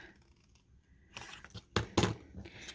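Scissors cutting a small piece of white paper for a miniature armchair build: a soft rustle of handling, then a few crisp, close snips near the end.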